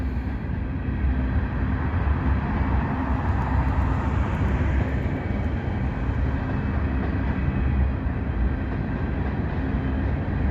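Kansas City Southern freight locomotives roll past at Abbeville, South Carolina, with a continuous loud, close rumble and rail clatter sustained from start to finish, no talking.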